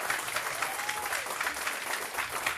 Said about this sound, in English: Clap it up for Toni Byrd.